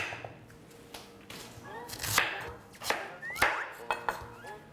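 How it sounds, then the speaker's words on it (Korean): A knife chops radish into cubes for kkakdugi, striking a cutting board in irregular, sharp knocks, some louder than others, with faint voices in the kitchen. "제가 썰었는데 같이 썰어서 도와주세요"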